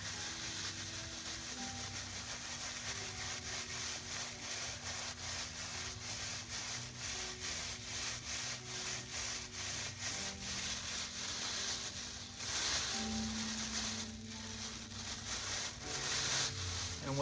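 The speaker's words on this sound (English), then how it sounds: "I'm polishing the ball again" A wooden toy ball rolls loosely while being polished to a glossy sheen, giving a steady, continuous rubbing and sanding-like friction that stays close and even throughout, with small swells in intensity.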